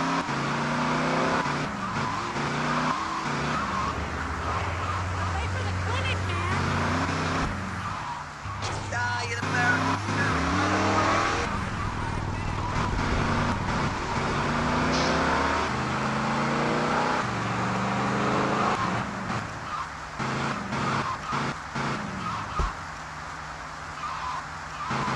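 A car being driven in GTA Liberty City Stories through Portland, its engine revving up and down in steady waves with brief tire skids, loud and continuous throughout, with occasional voices underneath.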